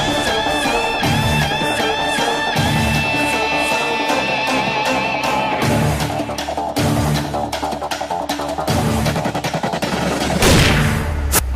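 Rapid bursts of gunfire crack out in quick succession across a tense television drama scene, loud and close, with dense overlapping shots and a heavy boom toward the end over music.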